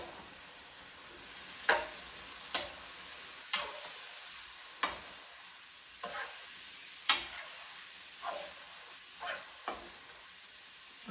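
Beef and celery stir-frying in a pan, a soft steady sizzle broken by about a dozen sharp utensil scrapes and knocks at irregular intervals, close up.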